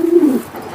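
A racing pigeon gives a single short, close, loud coo that rises and fades within a second, with no talk over it.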